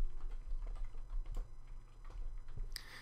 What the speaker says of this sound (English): What I'm doing is typing the text that I want the slides to contain between my timeline markers.